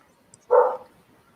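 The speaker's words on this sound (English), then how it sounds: "Fucking dog." A single sharp, fairly loud dog bark rings out once against a quiet room background and then fades quickly.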